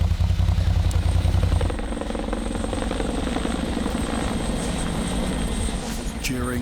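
Police helicopter in flight during an exercise, a steady, loud rotor and engine drone that runs throughout, heavier at the start and easing slightly, with faint speech underneath.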